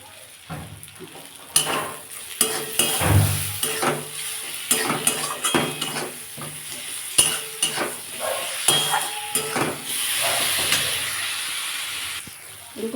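Spices sautéing in a pan for a red lentil tadka, heard as an intermittent sizzle and hiss broken by repeated sharp clinks and scrapes of a spoon stirring against the pan, fairly close.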